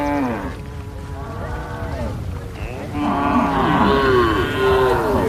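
Cattle mooing at a tribal herding camp, several long low calls overlapping from more than one animal, loud and close, growing fuller and more layered toward the end.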